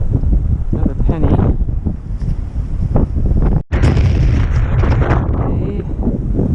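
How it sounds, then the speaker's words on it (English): Strong wind buffets the microphone in a park, producing heavy, continuous low rumbling roar with a brief dropout midway. "Windy day at this park."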